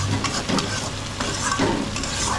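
Duck meat stirred and fried in a pan for a Bengali duck curry, with a steady close sizzle and repeated scraping stir strokes throughout, no talking.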